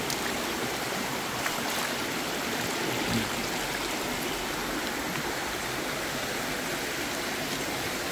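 A village river in Jamaica flows steadily as a continuous, even wash of running water, faint and unbroken throughout with no voices.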